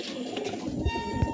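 Homing pigeons, both cocks and hens, at a loft as birds return and are counted; a couple of soft, low coos surface near the end over a steady background hum.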